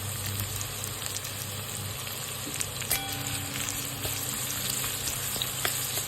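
Chopped onion fries in a pan for chana masala, giving a steady, close sizzle with faint crackles throughout and no talking.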